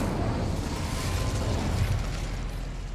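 Fire spell cast in Hogwarts Legacy, a dense continuous roaring whoosh of flame filling the whole stretch, loud and steady with no voices over it.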